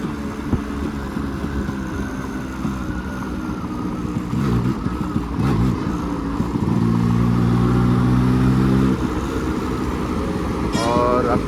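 A stock Yamaha RX 135 two-stroke motorcycle is ridden, its engine buzzing steadily up close with wind rush, rising into a harder rev around the middle, while a rider talks over it.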